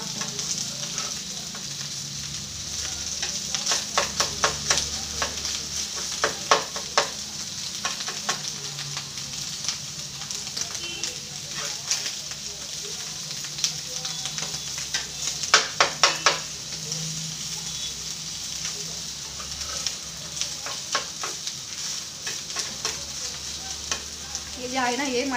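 Fish roe frying in oil pops and crackles in quick bursts over a continuous, close sizzle, with clusters of sharp snaps scattered through a long stretch and no speech.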